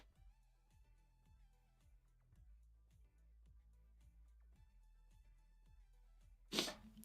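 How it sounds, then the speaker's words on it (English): A single sharp sneeze bursts out loud and close near the end, after a long quiet stretch with faint, steady ticking in the background. "I'm about to sneeze, so hang on one second."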